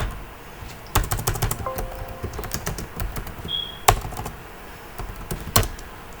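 Computer keyboard typing during a networking routing lesson: scattered sharp key taps and short bursts of clicks, close and fairly quiet, with no talking.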